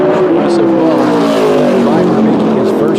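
A modified race car on a qualifying lap at South Boston Speedway, its engine a loud, steady, high-revving drone with pitch drifting slowly downward, with a commentator's voice over it.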